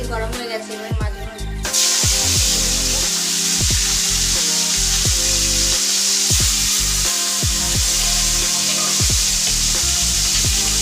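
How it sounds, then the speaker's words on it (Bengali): Fish pieces sizzle and crackle steadily in hot mustard oil in a kadai, a loud continuous frying hiss that begins abruptly as the fish goes in, with occasional stirring scrapes and no talking. "তেল গরম হয়ে গেছে, এবার মাছগুলো"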